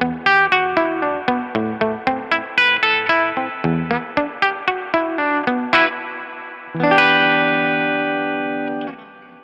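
An electric guitar plays a quick run of plucked notes, then a sustained chord that rings out with a long, wet spring reverb tail.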